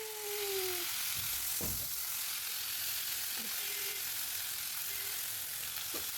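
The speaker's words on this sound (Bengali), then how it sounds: "এখানে এখন আমি মাছটা ভেজে নেব, তেলের মধ্যে হলুদ আর লবণ দিয়ে নিয়েছি" Fish fries in hot oil seasoned with turmeric and salt in a kadai, a soft, even sizzle broken by a few faint knocks and tiny pops.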